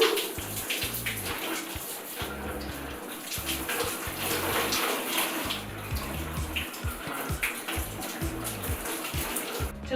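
Hot tap water runs steadily while long hair is wetted for a shampoo, giving a continuous splashing rush for ten seconds with no talk over it.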